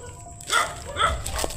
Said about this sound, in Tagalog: Madaming aso sa kabila guys